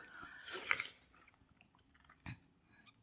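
Someone chews a bite of fresh mango close up, a burst of wet, squishy chewing early on, then quieter mouth sounds and one more soft bite near the end.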